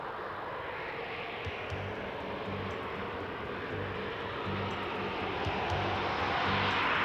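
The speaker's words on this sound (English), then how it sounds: "This is the MiG-21, the so-called fish bed." A Soviet MiG-21 Fishbed fighter jet at an RAF Fairford air show, its engine a steady broad roar that swells slightly louder toward the end, with no voices over it.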